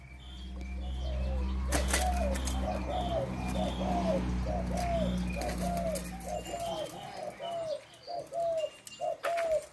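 Captive-bred hybrid spotted doves coo close by in a steady, rhythmic run of repeated calls over a low background hum, with a brief flutter of wings early on.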